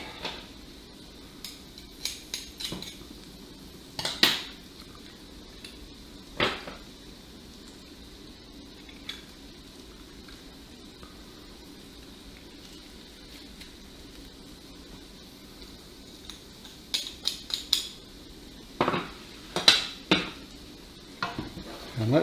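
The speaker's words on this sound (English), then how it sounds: "And let's get that garlic mixed in." A spoon stirring garlic into cooked onions and bacon in a pan, faint and sparse with scattered clinks and scrapes against the metal, bunching into a busier flurry near the end over a quiet background.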